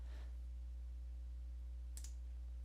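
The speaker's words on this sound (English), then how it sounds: "left clicking on the Start button one time" One crisp computer mouse click on the Windows 10 Start button, a single sharp tick near the end over a steady low electrical hum, preceded by a faint soft tap.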